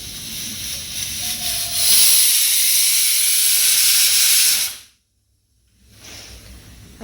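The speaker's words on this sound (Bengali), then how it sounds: "উঠে আমি একটু আলু সেদ্ধ বসিয়েছি।" A pot of potatoes boiling on a stove lets off a loud, steady hiss of steam that swells and holds for a few seconds, then cuts off abruptly before a softer hiss returns, close by.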